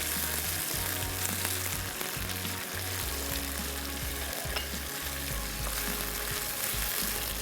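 Mutton chops fry in a pot with a constant close, loud sizzle and occasional stirring scrapes, with a low steady hum underneath throughout.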